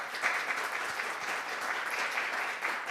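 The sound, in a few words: applause for panel discussion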